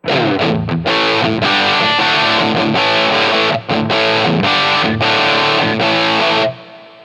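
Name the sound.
electric guitar through rock preset with reverb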